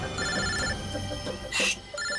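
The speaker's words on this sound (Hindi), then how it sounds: "बॉस का फोन है" A telephone rings with a repeating electronic ringtone, close and clear, its tones pulsing steadily with a brief louder burst partway through.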